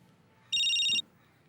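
A telephone rings in one loud, steady electronic burst of about half a second, standing out clearly above a low, quiet room background.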